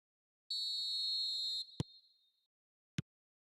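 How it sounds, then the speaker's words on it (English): A referee's whistle from an eFootball video game match kickoff sounds as a steady, high, shrill tone lasting about a second, followed by two sharp clicks, against silence. "There's the whistle, and here we go."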